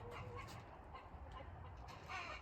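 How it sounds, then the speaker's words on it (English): Bielefelder hens clucking in a farmyard, a steady mix of soft clucks and rustling with a louder call near the end. "I think that's a Bielfelder hen."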